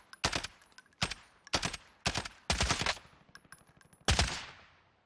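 Gunfire in the Warzone shooter game: about six loud, sharp bursts spaced irregularly, some single shots and some short rapid volleys, each with a brief decaying tail, with no talk over them.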